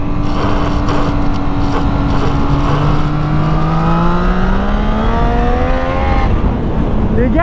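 A turbocharged Yamaha Niken three-wheeled motorcycle accelerates hard nearby, its engine note climbing and rising through the gears with loud, continuous roar and wind rush.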